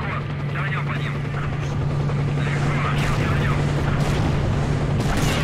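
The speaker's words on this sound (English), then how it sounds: "Definitely the helicopters are here." Helicopter rotor drone from the video game S.T.A.L.K.E.R.: Shadow of Chernobyl, a steady low thrumming that holds throughout, mixed with muffled booms and scattered gunfire in a busy game soundscape.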